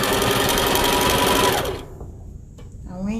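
A sewing machine stitches a fold on a lunch bag in a loud, fast, even run that stops abruptly partway through, followed by quieter handling noise and a voice starting to speak.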